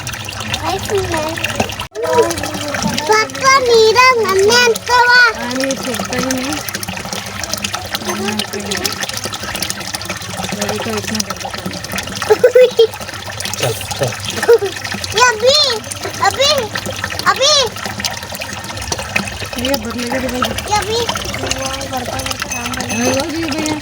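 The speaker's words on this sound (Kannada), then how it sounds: "ಪೂರಾ ಪೈಪ್ ನಂದು ಹೊಲಸು ನೀರು ಹೊಂಟವ ನೋಡು." Dirty, sewage-contaminated water gushing and splashing continuously from a municipal supply pipe in Kalaburagi, India, with people, including a child, talking over it.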